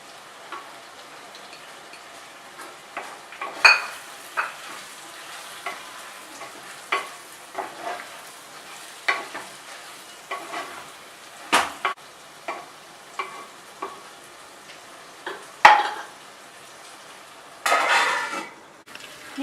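Pork masala roasting Kerala style in a pan, with a steady low sizzle under repeated scraping strokes of a spoon against the pan, clinking at irregular intervals; no talking.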